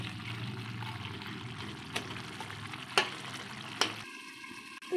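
Fish heads frying in a pan of oil while being stirred, a steady close sizzle with a few sharp clinks of a utensil against the pan before the frying sound cuts out near the end.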